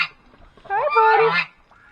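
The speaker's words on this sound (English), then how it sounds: "Lots and lots of duckies." Ducks quack in a short burst of several harsh, nasal calls, loud and close, with a faint low call underneath and quiet surroundings before and after.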